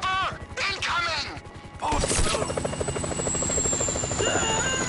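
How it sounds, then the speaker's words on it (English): A helicopter in GTA 5 arrives with a rapid, loud rotor chop that quickly swells to fill the scene, following a burst of game noise and shouting voices at the start. "Chopper! Incoming!"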